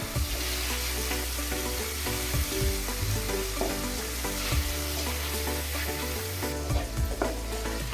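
Mutton keema kalija pieces frying in hot oil until golden, a dense, continuous bubbling sizzle close up with soft stirring knocks and no voices.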